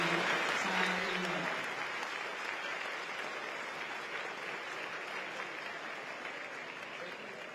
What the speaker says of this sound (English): please give a warm round of applause to the President of the Republic of China, Her Excellency Tsai.